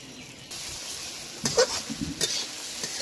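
A potato, ash gourd and crumbled egg filling frying in a pan, a soft steady sizzle broken by a few sharp scraping stirs of the spatula.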